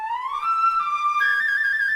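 Flutes in a light-music woodwind passage play a sustained, bright melodic line, rising and then holding steady notes that step up midway, clear and close with no voices.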